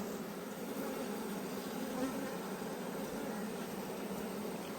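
Honey bees buzz steadily throughout a beehive inspection at a queenless hive, a dense, even hum that stays close and unbroken.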